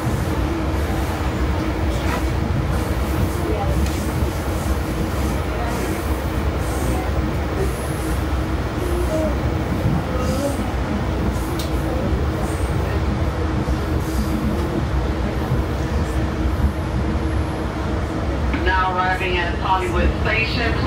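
A Tri-Rail commuter train rides steadily toward Hollywood Station on the Miami-to-Fort Lauderdale line, with a continuous loud rumble and rail noise throughout. A brief high squeal or chime rises near the end.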